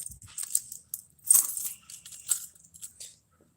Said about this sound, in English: Let me get all these keys out of my pocket.